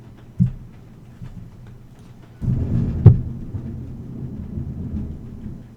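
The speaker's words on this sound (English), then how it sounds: "Boy, can you hear that thunder?" Thunder from a storm rolls in the distance, a low rumble that swells midway with one sharper crack, then slowly fades under a quiet background.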